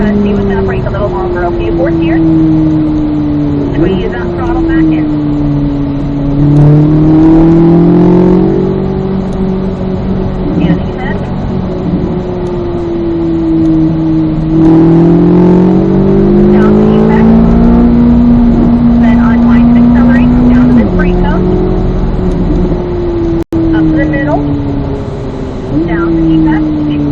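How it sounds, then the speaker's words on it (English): A race car engine screams loudly from onboard, rising and falling through repeated gear changes as it accelerates along the track, with a brief sharp click partway through. "Squeeze that throttle back in"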